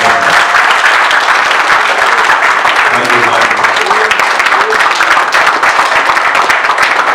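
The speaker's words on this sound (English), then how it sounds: "I think that applause is too weak for everyone." Audience applause at a formal gathering following a gubernatorial election tribunal ruling in Ebonyi State, a dense, steady wash of many hands clapping continuously and loudly throughout.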